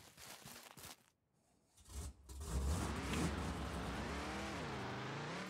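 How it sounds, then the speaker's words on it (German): Vehicle engine in the video game Ranch Simulator: a starter crank, a short pause, then the engine catches and settles into a loud steady drone with rising and falling pitch as it drives off. "Wenn der Motor startet, klingt das geiler."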